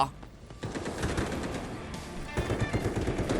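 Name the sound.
M4A1 rifle gunfire in video game Delta Force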